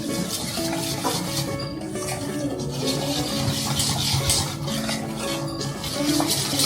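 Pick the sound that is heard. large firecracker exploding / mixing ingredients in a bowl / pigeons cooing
mixing ingredients in a bowl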